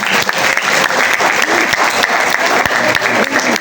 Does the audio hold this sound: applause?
yes